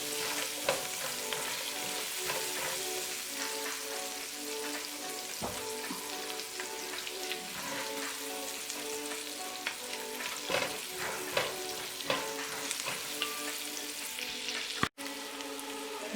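Garlic sizzles in hot oil in a pan for a red beef curry, a dense continuous crackle with occasional stirring scrapes and pops, close and steady throughout, with no talking.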